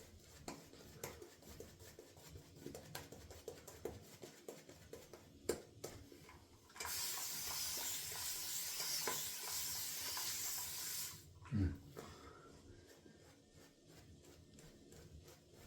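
A shaving brush lathers soap across a face with soft, close swishing and scrubbing that swells into a denser, wetter lathering spell for a few seconds, then settles back to light brushing.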